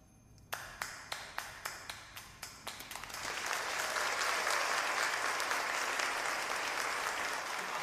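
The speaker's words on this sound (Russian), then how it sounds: "Они всегда мне аплодируют." Applause from an audience at a Christmas occasion: a few separate claps first, then a full, steady round of clapping that fills the rest of the clip.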